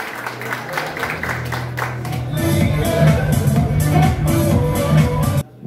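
Applause from an audience at a regional business awards ceremony swells into full, steady clapping with some crowd noise and a hum beneath, continuing loudly before cutting off abruptly.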